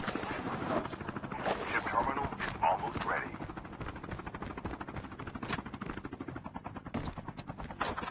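Video game gunfire crackles in rapid bursts and repeated volleys, fairly loud and continuous across the scene, with voices chatting over the shooting.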